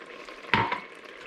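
Extra virgin olive oil poured into a pan of hot chili garlic oil gives one brief, close splash and sizzle burst that fades quickly into a low background hiss.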